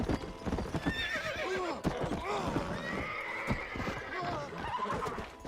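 Rapid hoofbeats of a galloping horse in Red Dead Redemption, close and rhythmic, with several whinnies rising above the pounding while someone talks over the gameplay.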